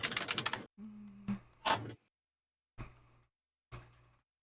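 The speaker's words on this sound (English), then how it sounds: "I like how I'm hearing typing in the background and then response typing in the foreground." Typing on a computer keyboard comes in short separate bursts of clicks, a rapid flurry at the start and then a few brief quiet clusters with pauses of silence between.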